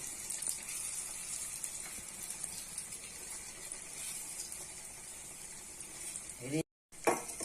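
Bread frying in hot oil in a pan for an egg breakfast dish, a steady close sizzle with occasional stirring, briefly cut to silence near the end before the sizzle returns.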